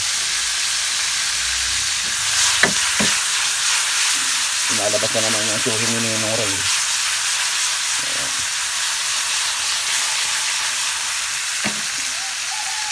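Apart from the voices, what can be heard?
frying duck intestines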